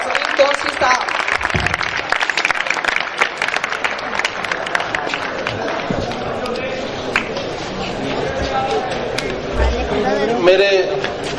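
An audience at a school matric welcome party applauds as a speaker is called to the stage, a dense spread of clapping that thins and fades while a crowd murmurs.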